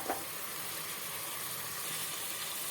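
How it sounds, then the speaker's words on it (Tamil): Chicken pieces go into a frying biryani masala and sizzle in a steady, soft hiss that carries on without a break, with a small clatter at the start and no talk. "இப்போ நம்ம சிக்கனை சேர்த்துடலாம்"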